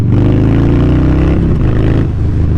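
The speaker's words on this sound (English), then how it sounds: "really make a nice video of the exhaust, just so you guys can actually hear it" A Harley-Davidson Dyna motorcycle with an aftermarket exhaust revs hard up close, a loud continuous rumbling engine with pulsing harmonics that dip briefly and surge back, with no talking.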